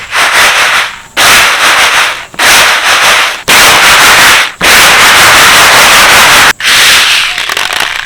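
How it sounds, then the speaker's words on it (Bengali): Dry chickpeas rubbed and shaken between two hands to clean them, loud bursts of dense rustling grit, about six long sweeps separated by short pauses. "দু হাত দিয়ে ঘষে ভালো করে পরিষ্কার করে নিলাম এবার একটু ঝেড়ে নেব"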